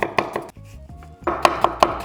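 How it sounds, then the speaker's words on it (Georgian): Several crisp knife strokes chopping red onion finely on a board, loud and close, a few quick chops, then a brief pause with faint background hum, then three sharper evenly spaced chops. "ავიღოთ 9 წითელი ხახვი და დავჭრათ ძალიან წვრილად"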